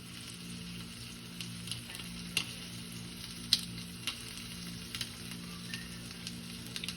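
Chicken pieces frying in a hot pan give a steady sizzle with occasional sharper pops and crackles, close and moderately quiet, with no talking.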